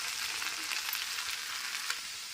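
Okra (lady's finger) fries in a pan with a dense, close, continuous sizzle and crackle as it is stirred, with no voices.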